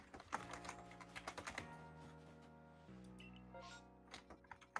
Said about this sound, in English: Sparks is massively typing. The enter key was pressed.